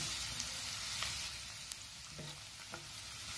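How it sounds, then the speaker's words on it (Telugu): Green chilies and curry leaves frying in hot oil for a Phool Makhana masala curry, a soft continuous sizzle with a few light clinks from a spoon stirring, close but quiet. "పచ్చిమిర్చి వేసుకుందాం. అలాగే కరివేపాకు కూడా మనం వేసుకుందాం."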